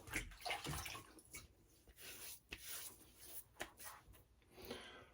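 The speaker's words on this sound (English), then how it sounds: "first I'm going to wet the face" Water splashes in quick, irregular handfuls as a face is wetted before a shave, close and fairly quiet with rubbing between splashes.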